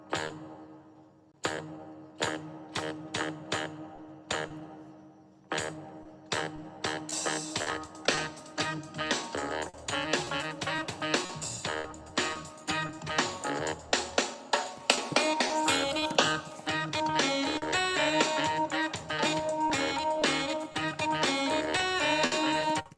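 Busy instrumental funk-jazz cover of the Beastie Boys' Brass Monkey with punchy rhythmic hits, building from sparse stabs into a dense full-band texture, steady and moderately loud, no voices.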